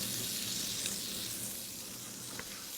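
Scallops and guanciale sizzle steadily in a hot pan with thyme, rosemary and a garlic clove, a dense continuous frying hiss with a couple of faint utensil clicks, close and fairly loud.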